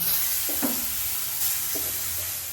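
Brinjal slices sizzle in a pan, a soft steady hiss with a couple of brief scraping stirs.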